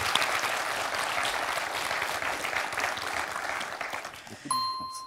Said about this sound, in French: 2 points pour Bruno qu'on peut applaudir